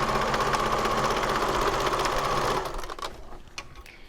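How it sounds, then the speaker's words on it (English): A sewing machine stitches two vinyl strap pieces together at one end with a 3/8 inch seam, whirring loud and steady for a couple of seconds before stopping abruptly, leaving a brief quiet tail. "I'll sew these with a 3/8 inch seam allowance."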